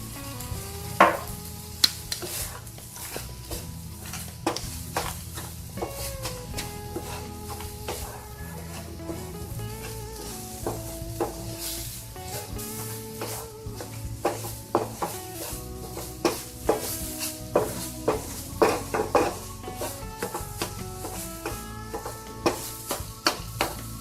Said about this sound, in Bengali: এখন আমি এর মধ্যে গুঁড়া দুধটুকু দিয়ে দিব দিয়ে ভালো করে মিশিয়ে দিব